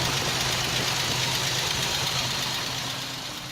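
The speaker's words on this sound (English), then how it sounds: "We're listening to the 218 Flathead 6." A 1950 Dodge B2B half-ton pilot house truck with a Mopar 218 flathead six idles nearby in a steady low rumble, fading slightly toward the end.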